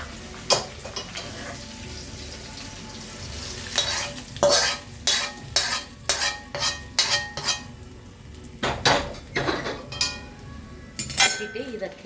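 Flattened rice upma (aval upma) being stirred in a wide frying pan, with repeated scraping and clinking strokes of a spoon against the metal over a low sizzle, up close and clear, with no talk.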